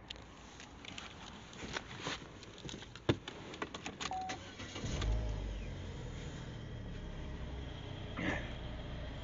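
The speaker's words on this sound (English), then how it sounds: "We'll just go and start the car up." A 2014 Holden Barina CD hatchback starts up after a few faint clicks and rustles from inside the cabin, the engine catching and settling into a steady, quiet idle heard close from the interior.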